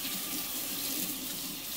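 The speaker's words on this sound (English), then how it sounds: "And then wash my hands." Tap water runs steadily into a sink as hands are washed after mixing flour and water for bread dough, a continuous close hiss with no speech.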